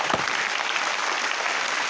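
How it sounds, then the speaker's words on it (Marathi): Students at a village school in Ralegan Siddhi applaud together in a dense, steady burst of clapping that fills the room, close and continuous, with a faint voice at the start. "सन्मान होईपर्यंत हात वर करून टाळ्या वाजवा."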